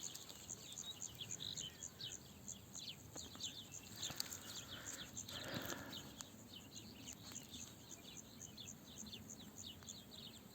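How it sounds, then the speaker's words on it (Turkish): Faint bird calls chirp repeatedly over a soft outdoor hiss on a mountainside, with insect-like trilling in the background and no talking. "Böyle bir kuş, ses, kuş sesleri var. Doğanın sesi."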